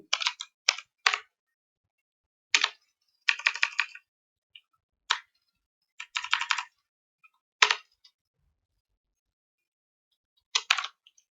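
Code typed on a computer keyboard during an HTML and CSS lesson: sharp, close key clicks in short clusters and single taps, separated by silent gaps.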